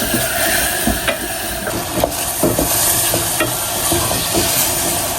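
Food frying in a pan with a steady sizzle, broken by repeated scraping stirs and light clinks of the utensil, close and without talk.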